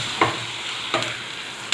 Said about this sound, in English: this tomato we will be adding, and we'll saute a bit.